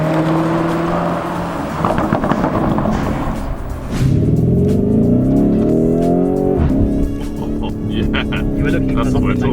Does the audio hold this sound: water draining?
no